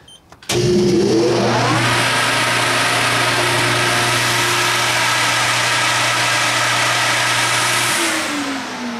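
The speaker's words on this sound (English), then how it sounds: "Turn the fan to on." A new grain dryer's fan spins up after a reset and runs steadily at a loud, constant pitch with a strong low hum, empty of corn, then begins winding down near the end.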